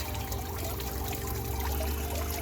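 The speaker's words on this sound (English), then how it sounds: "this tricklet water sound, it adds so much of positivity in the garden" Water trickles and pours softly from a garden water feature in a continuous gentle stream, close and low in level with no voices.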